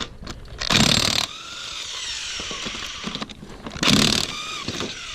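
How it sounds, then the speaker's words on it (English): Bolts on a power steering pump bracket being loosened with a 15 mm tool, two bursts of ratcheting separated by quieter clicks and mechanical handling, close up with no talk. "now take your 15, go ahead and remove these bolts"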